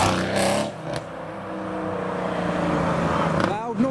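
A BMW followed by a Mercedes pulls away from a roundabout at a business park, with engines rising and whirring as they pass fairly close. A person talks over the traffic noise.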